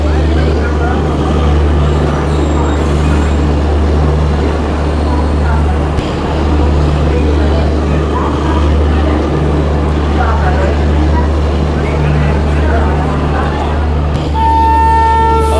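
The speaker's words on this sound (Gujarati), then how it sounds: "ટાઈમ ટુ ટાઈમ આપણી ગાડી ચાલી રહી છે અત્યારે" Interior of the Intercity SF Express 22959 passenger train running between Vadodara and Jamnagar: a steady, loud low rumble with constant drone, a few faint horn-like tones near the end, and voices murmuring in the carriage.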